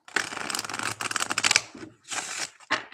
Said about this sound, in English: Wow, that's a fresh shuffle.